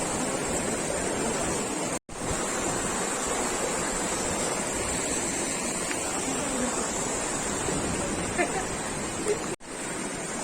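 Dugarwadi waterfall near Nashik roars as a dense, continuous rush of falling water, loud and close, filling the whole stretch with only brief dropouts.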